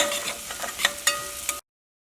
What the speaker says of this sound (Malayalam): ഈ മല്ലിയിലയും ഇതിനകത്ത് കടന്നിട്ട് നന്നായിട്ട് വഴന്ന് വരണം